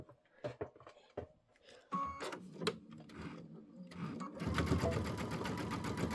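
Sewing machine stitching a straight center stitch along quilt borders, starting with short intermittent bursts and then running steadily and louder toward the end.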